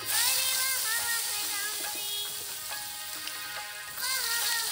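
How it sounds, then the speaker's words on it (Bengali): Whole cut potatoes fry in hot oil for a Bengali begun ilish curry, giving a loud, continuous sizzle that dips briefly and then surges again near the end. "এখন আমি তেলের মধ্যে গোটা কাটা আলু দিয়ে দিচ্ছি"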